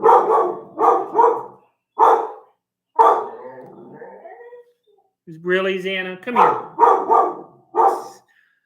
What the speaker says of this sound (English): She's barking at dogs.